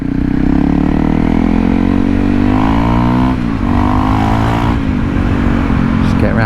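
A Honda CRF 300L motorcycle is ridden in the Philippines, its engine note rising and falling through gear changes, loud and close throughout.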